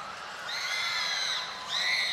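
Crowd at a Lollapalooza festival live performance screaming and shrieking, a sustained high-pitched roar that swells twice across the moment, loud and diffuse with no talking.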